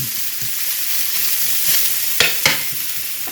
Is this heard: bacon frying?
yes